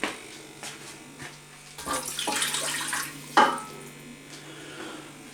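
Lukewarm water, about 25 degrees, is poured into a bread dough mix as a soft continuous trickle that swells into a fuller splash midway, with a sharp clink near the end and no talking.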